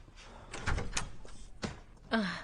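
A door is opened indoors, with a couple of knocking or handling thumps and a latch-like clack near the end, fairly close and moderately loud over a quiet room.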